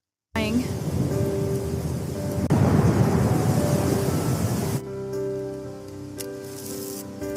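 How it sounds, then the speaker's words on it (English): Heavy cartoon rain pours in a steady hiss as a thunderstorm rumbles, swelling louder midway before easing into a softer patter with faint tonal sounds behind it. "This storm is terrifying."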